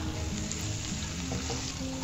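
Ginger, garlic and green chilli fry in oil in a pan for homemade Gobi Manchurian, giving a steady, dense sizzle that stays close and even throughout with no voices.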